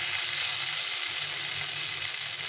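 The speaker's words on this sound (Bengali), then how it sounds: "এখন আমি এর মধ্যে জল দিয়ে দেবো" Water hits a pan of sizzling spiced potato and taro curry, producing a loud, continuous hiss and crackle up close, steady for the whole moment.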